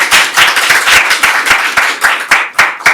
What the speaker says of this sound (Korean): 일단 먼저 큰 박수로 맞이해 주시기 바랍니다.